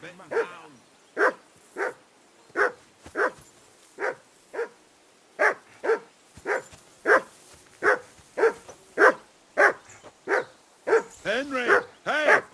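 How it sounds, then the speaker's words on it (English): A dog in the video game Kingdom Come: Deliverance II barks again and again in a steady, evenly spaced rhythm. The barks are close and loud and quicken into a rapid flurry at the end. "call off that mutt of yours"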